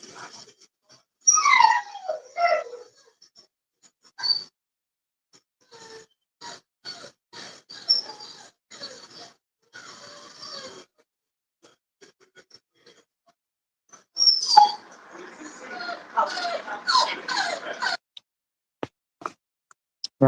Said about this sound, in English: What is going on with that poor dog?